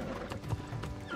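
Horse hooves clip-clopping during riding in the video game New World, a quick run of soft, low hoofbeats close by with no voices.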